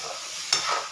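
Spinach paste stirred and sautéed in a pan for spinach rice, a soft continuous sizzle with one brief louder scrape of stirring partway through.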